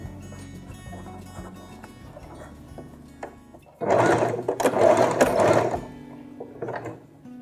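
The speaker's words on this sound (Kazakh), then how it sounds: "Инені қадап алып, мына резеңкені осылай тартқан күйде ептеп тігіп шығамыз." A sewing machine stitches elastic onto fabric, opening with quiet mechanical ticking before a loud, close burst of rapid stitching lasting about two seconds, followed by a short softer run.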